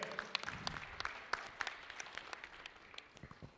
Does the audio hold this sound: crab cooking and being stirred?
no